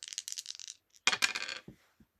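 A die dropping onto a hard floor during a tabletop board game, landing with a sharp clatter, then bouncing and rattling in a few quick taps before coming to rest, close and alone.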